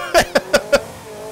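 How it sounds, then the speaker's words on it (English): Creaky suspension on an old car in Forza Horizon 5 gives four evenly spaced squeaks as it compresses, loud, close and clear, with no voices over them. "I love how these old cars have really creaky suspension"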